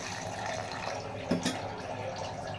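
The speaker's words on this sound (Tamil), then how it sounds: "இப்போ கொஞ்சம் தண்ணி சேர்த்து நல்லா வேக வச்சுக்கலாம்" Water runs and splashes steadily into a pot of cooking prawn curry, a continuous close pour with a brief clunk partway through, and no voices.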